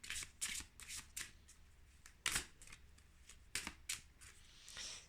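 Oracle cards being shuffled by hand, a steady run of crisp riffling flicks with a few louder snaps, close up and with no talking.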